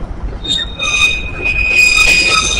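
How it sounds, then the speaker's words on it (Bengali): A train passes close by, its wheels squealing in sustained high metallic tones over a low rumble that grows louder toward the end. "দেখো ট্রেন যাচ্ছে, বাই বাই।"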